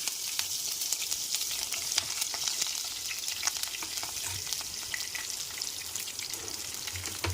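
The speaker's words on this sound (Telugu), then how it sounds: "ఇవి కొంచెం ఫ్రై అవుతుంటే మనం కట్ చేసిన మిర్చి ఉన్నాయి కదా, మిర్చి వేసేసుకుందాం" Cut green chillies frying in a pan with whole spices and bay leaf for a potato masala curry, giving a continuous close sizzle with faint crackles throughout, no talking.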